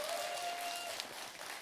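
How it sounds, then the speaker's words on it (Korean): An audience applauds a presentation panel judge at a community regeneration event in Gwangju, a brief, steady patter of clapping at moderate distance with a faint tone running through the first half. "여러분 박수 부탁드립니다."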